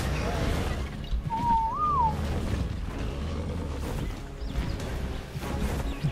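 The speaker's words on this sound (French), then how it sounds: "Sifflet passif." A single whistle command in the video game ARK on the Lost Island map: one clear, short rising-then-falling whistled tone over a steady low game rumble and ambient noise.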